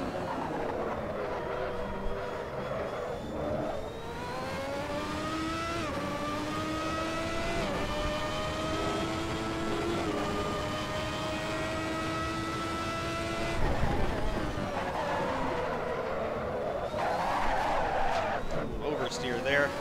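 Ferrari 643 Formula One race car in the Assetto Corsa racing game, its engine revving loud and steady with rising and falling pitch through gear changes, plus a brief tyre-skid burst during oversteer on throttle; a voice speaks over it.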